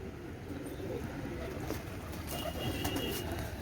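A fancy pigeon coos in a loft, soft low coos repeating over a steady background hiss.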